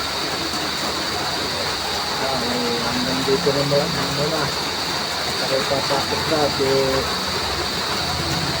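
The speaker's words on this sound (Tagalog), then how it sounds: "patuloy din ang paglakas ng ulan" Heavy rain pours steadily in a dense, even roar, loud and close, while someone talks quietly over it and a high insect-like whine persists.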